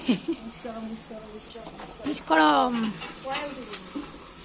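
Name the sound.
several people cooking pachan, a traditional herbal dish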